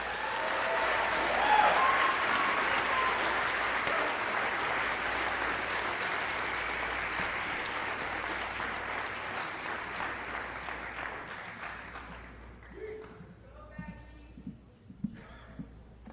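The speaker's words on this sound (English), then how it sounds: "Let's have a nice round of applause." Sustained audience applause at a high school scholarship night, dense and steady for about twelve seconds before thinning into scattered claps and fading out.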